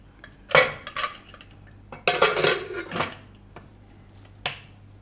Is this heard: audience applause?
no